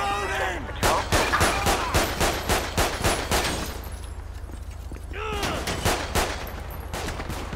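Repeated gunshots in GTA 5 with the LSPDFR police mod ring out in two volleys, a steady string of sharp close reports, then a pause and a second burst, with a voice talking between them.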